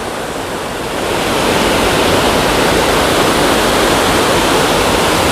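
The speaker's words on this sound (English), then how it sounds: "Yeah, real nice waterfalls." Continuous roaring rush of a high waterfall in Vermont, loud and steady, with no other sounds standing out.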